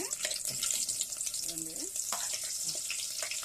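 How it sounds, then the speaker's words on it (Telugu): Moringa drumsticks fry in a pan with a steady close sizzle and the occasional stir or clatter, while a voice speaks briefly over the cooking. "ముందుగా అయితే మునక్కాయలు వేసేసుకొని ఫ్రై చేసేసుకుందామండి."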